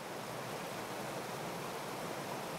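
A small waterfall pours into a deep river pool on an Australian trout stream, giving a steady, even rush of white water that continues unbroken and fairly faint.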